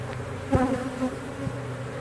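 Honeybee colony opened up during a removal from old comb that has stood for years, its bees giving an agitated steady buzz with individual bees droning past up close, loud and continuous, with no talk.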